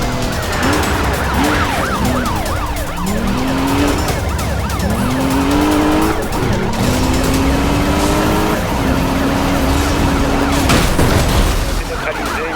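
Police car pursuit in the Need for Speed Rivals racing game, with a steady wail of sirens, roaring engines and skidding tyres as a suspect car is rammed, all loud and continuous.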